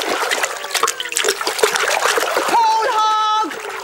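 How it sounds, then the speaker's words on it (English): Swimmers splashing in a crowded public pool, with busy water splatter and trickling close by under overlapping voices and someone talking, then a brief whistle-like tone near the end. "Just do some gentle swimming to start with."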